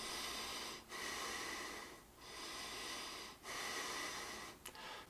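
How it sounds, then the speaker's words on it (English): Breathing through the nose while wearing an antimicrobial face mask, with steady continuous airflow broken by a few brief pauses, close and fairly quiet. "Put it on and breathe through my nose."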